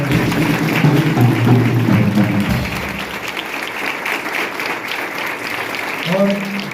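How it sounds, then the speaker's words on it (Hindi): Audience applause at a school felicitation ceremony for a student athlete who won a national medal in the 5000 metres, a sustained clapping wash with a voice speaking over it through much of the clip. "एक बार जोरदार ताली।"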